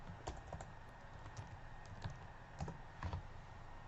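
Rapid typing on a computer keyboard while searching for a large fluorescent light bulb, with close, uneven bursts of key clicks over a steady background hum and no talking.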